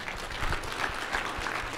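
Church congregation applauding during a sermon, a short burst of soft, distant clapping at low level.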